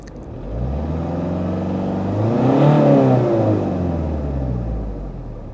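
Car engine revving while hooked to a wireless diagnostic scanner, a close rumbling idle that rises smoothly to a peak around the middle and falls back, with no talk.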